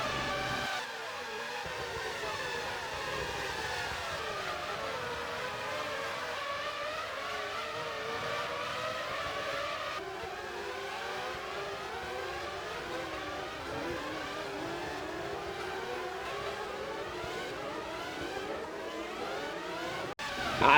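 Open-wheel 2000-era Formula 1 cars lap the Monaco street circuit in the F1 Challenge '99-'02 racing game, engines whining steadily with rising and falling pitch sweeps as cars pass and shift, continuous and loud with no talk.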